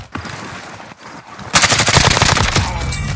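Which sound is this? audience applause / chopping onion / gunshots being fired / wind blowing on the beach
gunshots being fired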